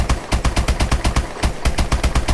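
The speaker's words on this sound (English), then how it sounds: "this is how maximum fast you're able to fire the base Mark 14 at 631 RPM" Rapid automatic fire from the base MK14 rifle at 631 rounds per minute in Call of Duty: Advanced Warfare, a steady, evenly spaced burst of loud, close gunshots with no talking.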